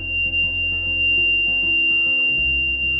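A steady, shrill electronic buzzer tone from a school-project rain alarm, triggered by water on its sensor, sounds continuously and loudly, with a low mechanical hum underneath.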